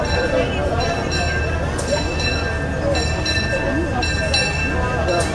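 The Disneyland Railroad train rumbles steadily along the track with metallic clinks and squeals, and voices talk over the continuous noise.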